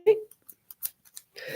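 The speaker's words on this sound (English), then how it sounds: "It would be faster if my scissors weren't messed up" A pair of worn, damaged scissors snip through strips of a Dollar Tree sock for a snowman craft, giving several short, crisp close-up cuts at an uneven pace. A brief voice sound comes first and a voice starts at the end.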